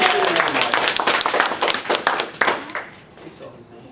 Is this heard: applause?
yes